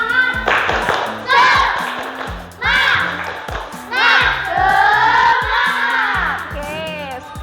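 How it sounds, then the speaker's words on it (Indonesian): A group performs a tepuk semangat, rhythmic clapping in short patterned bursts with chanted voices over them, led by one person in a classroom-style activity. "supaya lebih semangat, kita tepuk semangat dulu"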